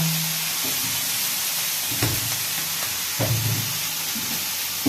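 Egg bhujia frying in oil in a home kitchen: a steady close sizzle and hiss runs throughout, with occasional soft knocks of a spatula stirring the pan, and no talking.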